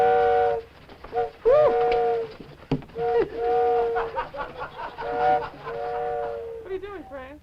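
A train sound effect in an old television puppet show: several drawn-out whistle or horn-like tones separated by short gaps, the later ones wavering and bending, loud and close.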